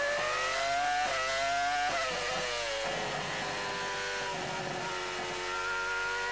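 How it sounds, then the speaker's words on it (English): A Honda V10 Formula 1 engine at the 2002 Hungarian Grand Prix screams close and loud, its high-pitched note climbing and dropping through several quick gear changes with no voices over it. "Let's listen to the Honda engine working hard."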